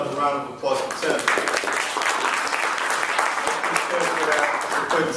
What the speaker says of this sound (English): About another round of applause for Tim.